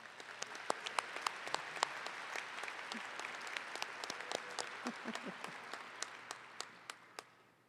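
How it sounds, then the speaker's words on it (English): A university commencement crowd at Wayne State University gives a round of applause, moderately distant and airy, with scattered sharp individual claps standing out before the clapping thins and fades. "Let's give them a round of applause."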